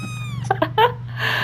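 Kittens give a few short, close meows and a rising caterwaul over a steady low hum, with a soft voice barely present.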